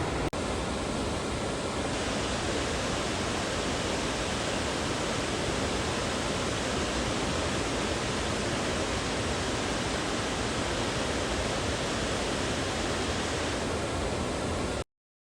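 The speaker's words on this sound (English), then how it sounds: "Pretty big waterfall. Let's see if we get up closer." Great Falls on the Appalachian Trail pours down in a steady, dense, unbroken roar of rushing water, heard close and loud throughout without any talking.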